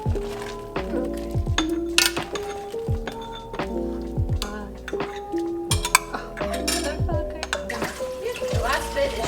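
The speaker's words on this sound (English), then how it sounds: "And then you want to do the stirring." A spoon scrapes and knocks around a pot of chicken and shrimp gumbo, with repeated clinks and thunks against the pot sides, close and fairly loud, with a voice talking over parts of it.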